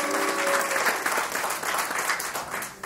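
Audience applause at a community testimony event, a steady dense wash of clapping that holds loud and even throughout, with a faint voice over the first moment.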